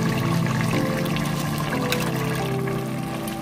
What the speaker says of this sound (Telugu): ఇప్పుడు బియ్యం వేసుకుందామండి ఇందులో ఈ గంట ముందు నానబెట్టానండి ఈ బాస్మతి రైస్ మూడు గ్లాసులు అండి